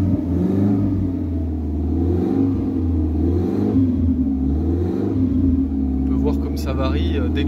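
A turbocharged Renault Espace engine idles and then revs, its low, steady rumble rising and falling in pitch with the throttle. The engine is close and loud throughout, and faint other noises come in near the end.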